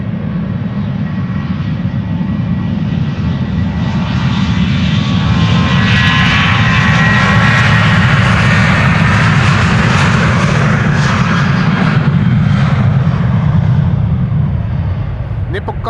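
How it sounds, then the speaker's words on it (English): A KLM Boeing 737 takes off at Amsterdam Schiphol, a loud, close engine roar with a heavy low rumble that swells mid-roll and stays strong through the climb. "KLM 737 taking off, and after that 777"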